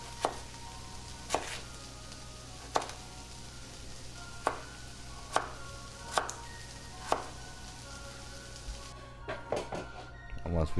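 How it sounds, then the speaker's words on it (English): A knife dices sweet potato on a cutting board in about eight crisp, evenly spaced chops. Faster, lighter cuts follow near the end, over a low background hum. "we're gonna dice up our sweet potato so we can get this into our fryer"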